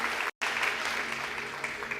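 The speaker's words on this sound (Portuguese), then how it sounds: "te damos uma oferta de aplauso bem forte em nome de Jesus. Aplauda com alegria" A church congregation gives a strong round of joyful applause at a Portuguese-language service, sustained dense clapping filling the room with a low hum underneath and a brief dropout near the start.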